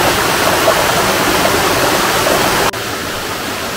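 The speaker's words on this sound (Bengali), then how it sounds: "দেখা যায় ঝর্ণার প্রচণ্ড পানি স্রোত।" A powerful waterfall stream at Tanguar Haor rushes in a loud, continuous broadband roar heard close by, with no voices over it.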